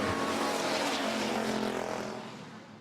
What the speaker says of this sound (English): Winnipeg Free Press Street Stocks getting ready to take the green, and they do now.